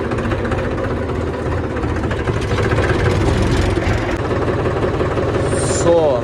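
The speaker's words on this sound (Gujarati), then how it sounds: "ટ્રેક્ટર લઈને પહોંચી ગયા છીએ વાડીએ." A tractor engine idles at a farm with a low, steady rumble that runs throughout, while a person talks over it.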